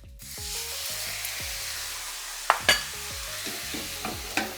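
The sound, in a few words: soy sauce sizzling in hot pan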